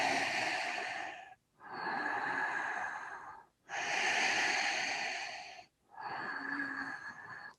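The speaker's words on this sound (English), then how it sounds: "Keep breathing" A person holding a yoga pose breathes slowly and deeply close to the mic, with four long, even breaths separated by short pauses and nothing else heard.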